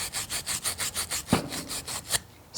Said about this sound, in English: This is emery cloth. It works really good for doing this stuff.